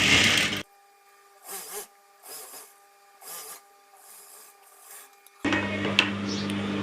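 An overlock sewing machine runs along the hem of a baby frock in loud whirring bursts at the start and end, with shorter rhythmic mechanical runs between them.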